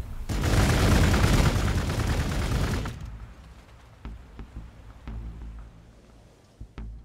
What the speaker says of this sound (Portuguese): eu acho que eu vou atirar nele de novo